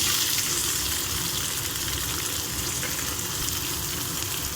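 Onion, green chili and curry leaves frying in oil make a loud, dense, continuous sizzle right up close, steady throughout with no talking.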